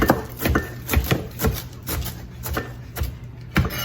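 A knife chops fresh cilantro, stems included, on a cutting board for tacos, with about a dozen firm, evenly paced thuds close up and no talking.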